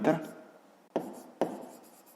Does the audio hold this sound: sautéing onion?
no